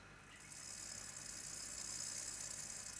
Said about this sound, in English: the moment I move a little bit, she tells me that she's here by rattling